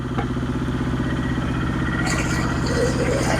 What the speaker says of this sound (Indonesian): jadi tidak manual tapi menggunakan tenaga mesin molen